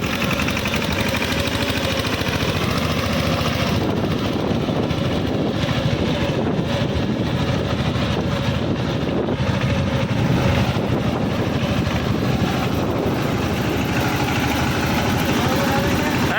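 A tractor engine runs steadily and loudly while being driven, a continuous close rumble with wind buffeting the microphone throughout.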